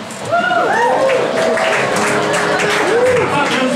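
A crowd claps steadily while a few voices whoop and call out over the applause.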